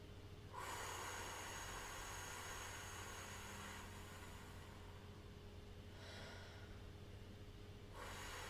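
Slow, audible exhalation during a singing breathing exercise, a long airy out-breath over steady background hiss, followed by two shorter breaths further on.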